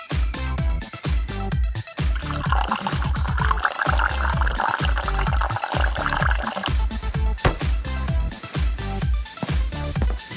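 Water poured out of a vase, a continuous splashing, gurgling stream with dripping, close and fairly loud, starting and stopping in uneven bursts.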